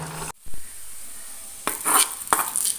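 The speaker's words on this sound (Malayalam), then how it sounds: "വെളിച്ചെണ്ണയിലേക്ക് കടുകും പച്ചമുളകും കറിവേപ്പിലയും കൂടി വറുത്തിട്ടു" Mustard seeds, green chilli and curry leaves drop into hot coconut oil, a dull knock followed by sharp crackling sizzle bursts that flare twice, loud and close.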